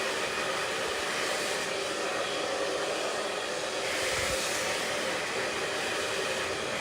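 A hair dryer on high heat and low airflow blows continuously and loudly at close range while hair is styled with a round brush, a steady uninterrupted whoosh with no talking.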